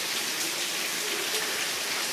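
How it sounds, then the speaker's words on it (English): Steady rain pours outside during a summer storm, a continuous even hiss of falling drops heard close and unbroken, with no voices. "And my God, it is raining outside."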